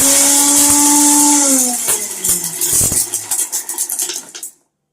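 A kitchen mixer grinder grinds three chillies with spices for pepper rasam, a loud steady whir that slows into rattling, juddering bursts before cutting off abruptly.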